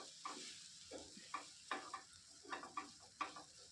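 Spiced green pea filling for koraishutir kochuri being stirred in a pan, with a series of short scraping strokes over a soft steady sizzle, close by and moderately loud, no voices.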